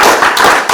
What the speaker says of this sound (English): please round of applause for that response